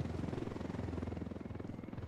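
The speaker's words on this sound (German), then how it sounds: "Ich höre einen Helikopter." Rhythmic thumping of helicopter rotor blades in the video game Ghost Recon Wildlands, steady and fairly faint, as if at a distance.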